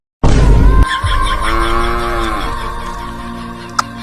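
A cow lets out one loud, close, drawn-out moo that starts abruptly and fades over several seconds, outdoors in a comedy sketch, followed by a brief click.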